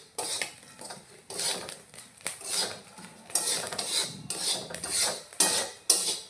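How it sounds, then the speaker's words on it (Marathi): Chickpeas are stirred briskly in hot sand, giving rhythmic scraping, rasping strokes with gritty rattling bursts, close and fairly quiet, with no talking. "आता हे फुटायला लागले।"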